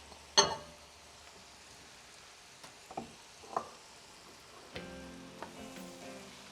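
Cremini mushrooms and vegetables cook in a pan for a rustic French chicken stew, giving a quiet, steady sizzle with a few soft clinks and stirring knocks scattered through it. No one speaks.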